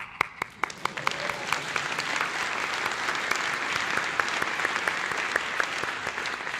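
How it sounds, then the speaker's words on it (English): A single person claps hands several times in a quick burst, then many hands keep clapping in steady applause that fills the room, fairly loud and continuous. "And I'm going to clap."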